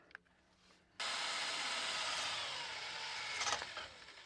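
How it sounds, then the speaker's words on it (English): A power drill starts abruptly and runs steadily with a broad whining grind, fairly faint, continuing to the end, drilling out a broken bolt on a Land Rover Defender. "we've drilled out the broken bolt, working up through the drill bits"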